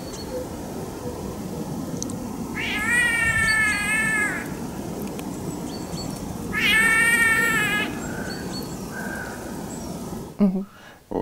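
A bird imitating a cat's meow, giving two drawn-out, wavering meow calls a few seconds apart over a steady low rumble, followed by a brief clatter.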